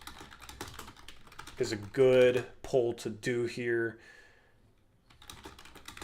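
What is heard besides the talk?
typing on a loud computer keyboard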